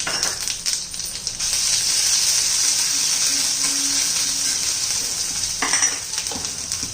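Mustard seeds, cumin and ginger-garlic paste drop into hot oil for a khichdi and sizzle loudly and steadily close by, with a few stirring scrapes and a clink near the end.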